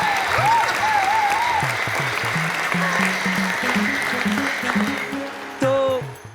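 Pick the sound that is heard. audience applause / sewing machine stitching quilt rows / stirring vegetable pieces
audience applause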